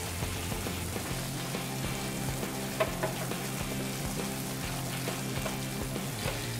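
Ghee goes into cooked carrot halwa in a pan with the gas flame off, giving a continuous close sizzle and crackle with faint stirring and no talking.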